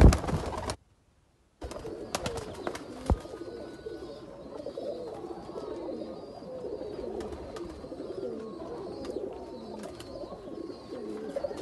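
Rampuri and Teddy pigeons coo softly and repeatedly in an enclosed space, with occasional rustling and knocks, after a brief silent gap near the start.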